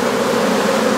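Dense, steady buzz of many honeybees clustered on a hive frame, close and continuous with no pauses or talk.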